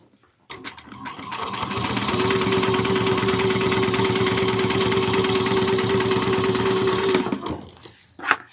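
A sewing machine top stitches a fabric bag in one long, steady run of about seven seconds, its fast, even needle rhythm loud and close, with no one talking.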